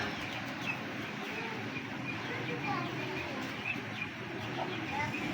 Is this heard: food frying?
no